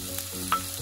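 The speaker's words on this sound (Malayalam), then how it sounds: "വറുത്തെടുക്കാം. ഇപ്പം നമ്മുടെ ഉള്ളി ഒന്ന് കുറച്ച് വെന്തിട്ടുണ്ട്." Chopped onion frying in olive oil in a pan for a chicken lasagna, a brief steady sizzle with faint stirring, close and fairly quiet.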